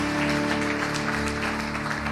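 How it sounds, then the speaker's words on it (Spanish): Applause from a church congregation fills the whole stretch, a steady dense clapping over a sustained musical drone, with no voices on top. "Dale un aplauso al Señor."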